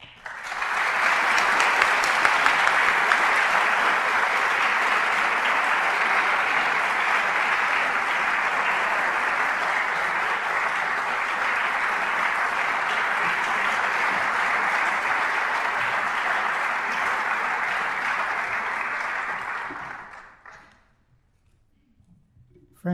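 An audience applauds steadily as speaker Glenford Mitchell is welcomed to a talk on rectitude of conduct. The clapping holds strong and even for about twenty seconds, then dies away into silence.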